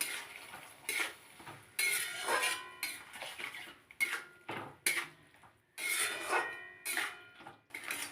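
Mustard and poppy seed paste with chopped green chili frying in a pan, a metal spatula scraping and clanking against it in repeated close, loud bursts with brief pauses between strokes.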